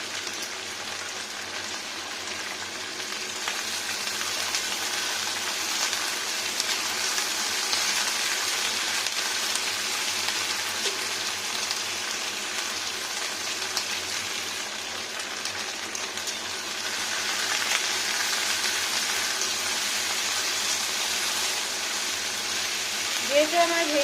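Five whole green chillies frying in oil in a pan for a vegetarian pea, potato and okra curry: a steady broadband sizzle that runs throughout at moderate loudness, without a break.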